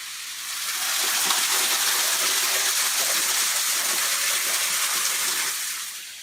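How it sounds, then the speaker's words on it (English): A steady, broad rush of falling water at Red River Gorge, Kentucky, heard from a trail nearby, constant and full throughout. "View of the waterfall from the trail on the other side"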